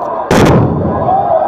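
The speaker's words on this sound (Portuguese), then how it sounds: "Uma granada lá." A loud grenade blast goes off during a staged bank robbery drill in a city centre, one sharp booming burst followed by a long rumbling tail and background din.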